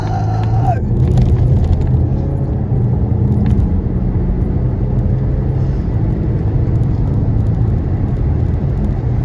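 An Audi SQ5 accelerates hard, its engine giving a steady, loud, low rumble from inside the cabin that runs without a break.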